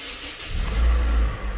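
A Toyota Corolla Altis engine starts with a second key, the low crank catching into a steady idle that swells and holds close by, with no talk.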